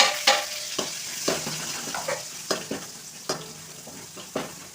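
Spices crackle and sizzle in hot oil for a Tamil rasam tempering, with scattered sharp pops and an occasional clink of a utensil against the pan, close and fairly quiet.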